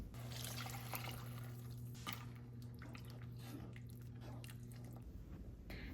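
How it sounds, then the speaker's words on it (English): Water from two full bowls poured into a cooking pot for a simmered lunch dish, a steady splashing pour running for about five seconds under a low hum, then stopping. "then you add a bunch of water, like 2 full bowls of water"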